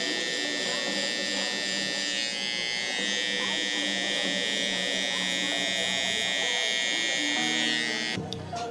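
Electric hair clippers buzz steadily and close while lining up a man's beard near the bottom of his ear during a fade haircut, a continuous motor drone that cuts out near the end.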